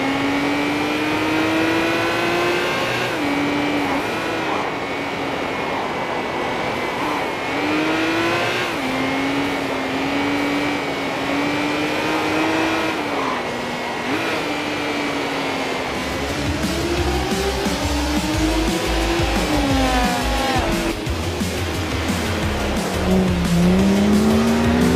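A race car drives a track in a racing video game, its engine revving up and down through gear changes with tire squeal on the corners, loud and continuous.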